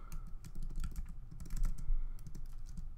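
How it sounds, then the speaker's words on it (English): Close, quick typing on a computer keyboard while entering code in a text editor, a dense run of clicky keystrokes with no talk over it. "And we want to type"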